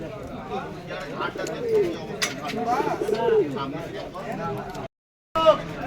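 Pigeons coo repeatedly with soft, warbling calls over nearby conversation at a pigeon market in Rajshahi, ending with a brief silence and one more coo.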